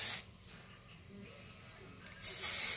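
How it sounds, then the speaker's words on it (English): Two short bursts of dry shampoo aerosol spray hiss loudly, one at the start and another near the end, separated by a quiet pause. "If you find that your first spray didn't do it, just give them another little spray."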